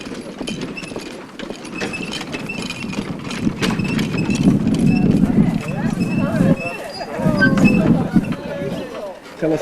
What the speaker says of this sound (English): Nugget is a carriage horse.